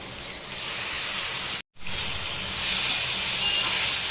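Grated raw mango sizzling in a hot pan with salt, turmeric and ginger-garlic paste, a steady broadband hiss of frying that breaks off for an instant near the middle, then resumes slightly louder.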